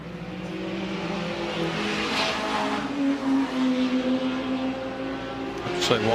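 Ferrari race car with its engine mounted in the back, booming as it runs on a track in wet weather, a sustained loud drone that rises in pitch with a sharp burst near the end.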